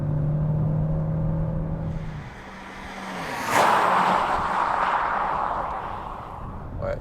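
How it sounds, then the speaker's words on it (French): A Nissan Juke hybrid accelerates hard in sport mode with both electric and petrol motors working, heard from inside as a steady hum, a brief dip, then a surging rising whir and engine roar. "Je vais vous faire une petite accélération en mode sport."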